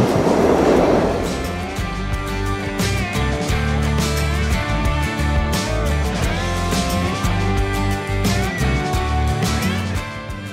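A passenger train rolls along the rails with loud, continuous rumbling, rhythmic wheel clatter and metallic squeals, heard up close throughout.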